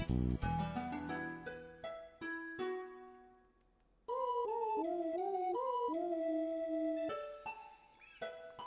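Video game music from a Pokemon TCG Pocket session, a melodic line with bell-like tones where a wolf howl sings the melody in long gliding pitched notes, clear and prominent.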